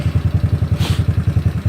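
SSR Interceptor 150 scooter (ZNEN ZN150T-9) engine firing up, a steady fast thumping idle pulse with a brief hiss partway through, close by and loud.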